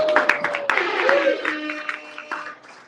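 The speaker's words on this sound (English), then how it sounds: "Give him a round of applause." A small audience applauding after a startup presentation at a crypto meetup, with scattered clapping that fades out over a few seconds as voices carry on beneath.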